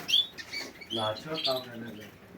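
Chicks fighting over feed give sharp high chirps and peeps in quick bursts, close and fairly loud, mixed with scuffling.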